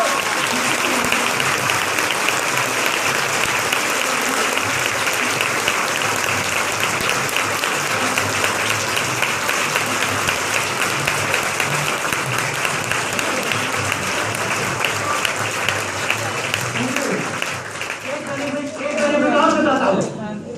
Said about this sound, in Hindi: जरा ताली बजाइए।